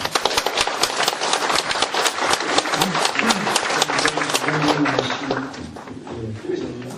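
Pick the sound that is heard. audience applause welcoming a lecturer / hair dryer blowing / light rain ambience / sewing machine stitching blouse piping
audience applause welcoming a lecturer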